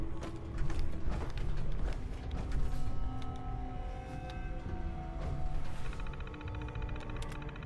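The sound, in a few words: door being unlocked in the video game Fallout 4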